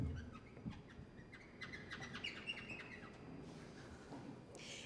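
A clarinet imitates a robin's song in concert at the Théâtre du Châtelet: a quick run of high, chirping, broken notes that flutter unevenly for several seconds before the phrase thins out.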